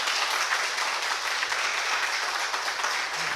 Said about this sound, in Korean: 다시 한번 감사의 박수 한번 올려드리겠습니다